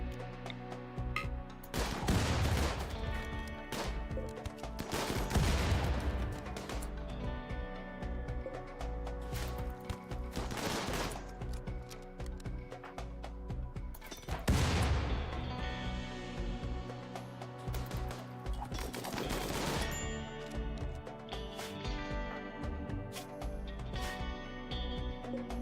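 Raiders assaulting a workshop in the video game RimWorld, with repeated grenade blasts and rattling bursts of gunfire, some far and some close, over continuous background music.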